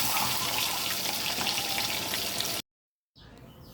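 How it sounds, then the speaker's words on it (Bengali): Eggs frying lightly in a pan: a dense, steady sizzle and crackle, loud and close, cutting off abruptly into silence and then resuming more faintly for the last moment. "ডিমগুলোকে একটু ভাজা নিচ্ছি হালকা করে"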